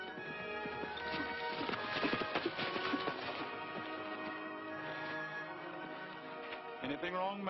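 Hooves of horses pulling a stagecoach in a classic Western film clip-clop steadily at a walking pace, with a busy, continuous rhythm throughout.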